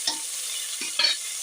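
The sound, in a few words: onions and mint sautéing and being stirred in pan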